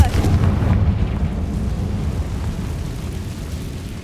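A Confringo blasting spell in Hogwarts Legacy bursts with a heavy booming explosion, then a deep rumbling roar that slowly fades over several seconds.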